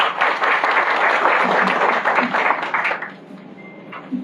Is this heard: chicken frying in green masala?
no